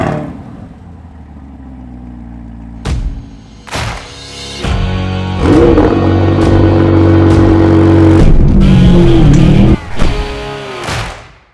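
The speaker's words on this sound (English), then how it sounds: "so let's start it up" A 2020 Chevrolet C8 Corvette Z51 with a targa top cranks and fires up, then its mid-mounted engine revs loudly several times, sharp blips rising over a deep, close idle before settling.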